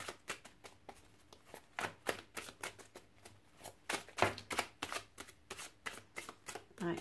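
Tarot cards are shuffled in quick, irregular bursts of crisp riffling and slapping, close and fairly quiet, with no voice over them.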